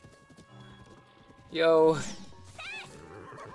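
A horse in a video game lets out a loud, close whinny with clip-clopping hooves around it. Someone talks before and after the neigh.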